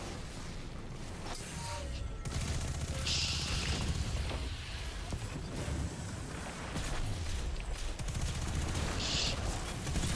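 Rapid bursts of gunfire from the Destiny 2 video game, repeated shots and volleys over a busy, loud game soundscape without a break, with no talk.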